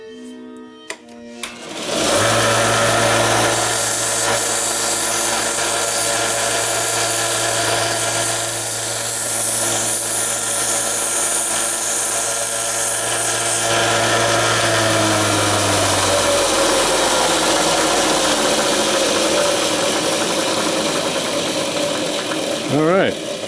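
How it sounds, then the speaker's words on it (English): A small motorized sanding machine tapers a wooden dowel for model HO-scale trees, starting with a click, then a loud, continuous whirring drone with a steady low hum and abrasive grinding that shifts as the wood is worked. "let's fire up our little sanding machine here and make a mess"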